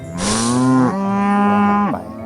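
A cow in a farming game moos twice in a row, two loud, drawn-out lowing calls close up with no other sound around them.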